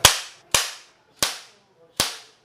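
Umarex Ace A10 airgun, made in Germany, test-fired four times in an irregular sequence, each shot a sharp loud crack with a short decay.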